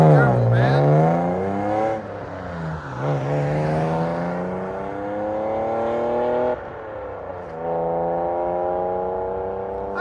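1999 BMW M3 with its 3.2L inline-six running two high-flow cats pulls away, the engine climbing through rising revs with gear changes, loud and close, while a person talks over it.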